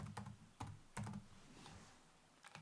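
Computer keyboard typing in a software development session, a few short bursts of keystrokes with pauses between, fairly quiet and close.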